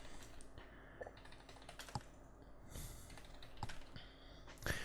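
Fighting-game inputs are typed on a computer keyboard in quick, uneven bursts of close, crisp key clicks with a few louder presses, over a quiet background.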